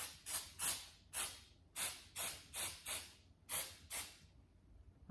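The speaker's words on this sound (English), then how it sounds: "And I want to just put a little bit of the snow spray." Aerosol snow spray hissed onto Christmas greenery sprigs in short, close bursts, about a dozen quick sprays in a steady rhythm with quiet gaps between them.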